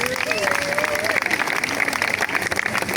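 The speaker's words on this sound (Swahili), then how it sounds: "Hebu kila mtu ajipigie makofi." An audience breaks into loud, sustained applause for themselves at a gathering, with a dense wash of clapping and a voice speaking over it.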